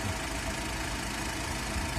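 An Iveco Daily 2.3-litre, 160 hp diesel engine with an eight-speed automatic idles steadily, giving a continuous close rumble with a faint knocking texture and no voices.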